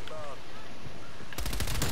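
An MP5 submachine gun opens up in Call of Duty: Black Ops Cold War, a quick burst of rapid shots cutting in near the end after a stretch of quieter game ambience and faint background sound.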